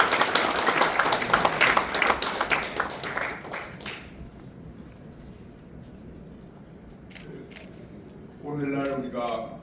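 A roomful of people claps after an introduction at a Korean ceremony in a National Assembly meeting room, where a UNESCO certificate is presented for the April 19 Revolution records. Dense applause fades after about four seconds, and a voice speaks near the end.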